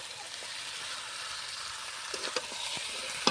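Oil sizzling in a cooking pan makes a soft, steady crackling hiss with a few sharper pops near the end, faint and unaccompanied by speech.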